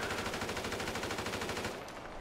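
Rapid automatic gunfire in GTA 5 Online, a dense, continuous burst of fast shots lasting a couple of seconds before tapering off, loud and close with no talking.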